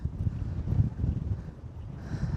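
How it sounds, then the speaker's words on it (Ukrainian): Low rumbling wind buffets the microphone steadily throughout, a continuous outdoor gusty noise with no clear voices, in the Netherlands. "Вітер такий свіженький."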